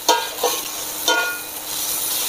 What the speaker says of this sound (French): je viens faire suer mes oignons, voilà, dans le gras des lardons avec les sucs des viandes